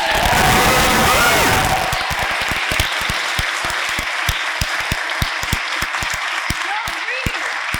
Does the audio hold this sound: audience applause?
yes